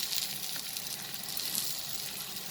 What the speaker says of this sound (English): now we will slowly flip this paratha and cook it from the other side also